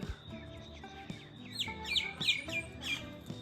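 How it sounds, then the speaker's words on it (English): Birds chirp and squawk at sunset in a calm countryside setting, a quick series of sharp, fairly faint calls with no talking. "You can see birds are chirping."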